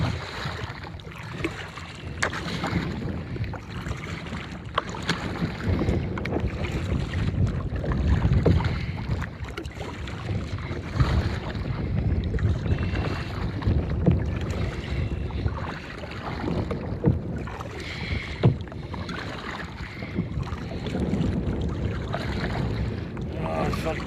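Gusty wind roars steadily across a boat paddling on a shallow lake at Forest Lake in Pagosa Springs, Colorado, with constant close microphone buffeting and low rumble throughout.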